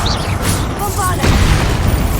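Bombarda explosion spell in Hogwarts Legacy during a duel: a loud booming blast layered with magical whooshes and spell effects, dense and close, with combat sounds continuing underneath and a voice shouting spell names.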